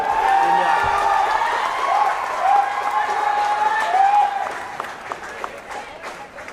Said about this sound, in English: Partisan crowd here in Patna cheering service faults from the opposition to the rafters.